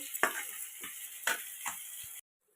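Fish frying in a pan with masala, heard as quiet, irregular sizzling and scraping stirs with a few distinct clicks and knocks over a steady hiss, ending abruptly.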